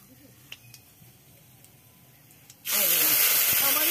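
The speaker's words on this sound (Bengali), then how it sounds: "মশলাটা ভেজে নেবে, তারপরে তরকারিটা তেল পেয়ে নেবে।" Spice paste with panch phoron hits hot oil while frying for a village-style cauliflower, potato and bori curry, a sudden loud, steady sizzle that swells in after quiet kitchen sounds.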